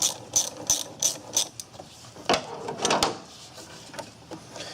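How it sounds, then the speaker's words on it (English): A ratchet clicks in repeated bursts of short pawl strokes, close and alone, loosening the upper radiator hose clamp on a Ford Ranger. "gonna loosen up this here hose clamp for the upper radiator hose"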